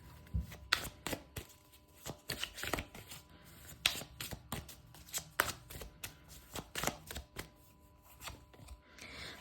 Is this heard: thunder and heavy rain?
no